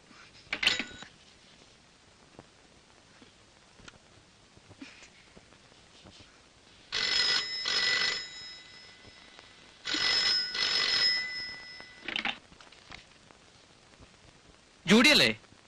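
A telephone bell rings in a Malayalam feature film scene, sounding in several loud, sustained bursts separated by pauses, with quieter stretches of background sound between the rings.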